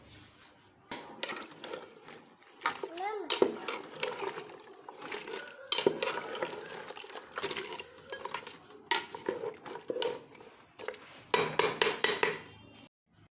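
Goat trotters being mixed with garam masala for mutton paya, a steady run of metal spoon and utensil clinks and scrapes against a pot, with some louder knocks toward the end and no talking.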